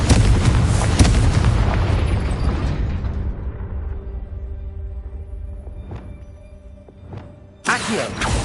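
Confringo blasting spell explosions in the video game Hogwarts Legacy hit as a loud rumbling boom that decays over a few seconds with faint tonal ringing, then a second burst erupts near the end.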